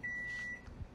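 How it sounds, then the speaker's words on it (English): A single long electronic beep from a microwave oven, steady and fairly loud, ending after about half a second, followed by faint low rumbling. "Our microwave."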